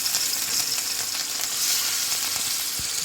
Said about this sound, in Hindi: अब देखिए पैन चढ़ा दिया है, पैन में तेल डाल दिया है, तेल गर्म हो गया है। अब इसमें देखिए तलने के लिए डालेंगे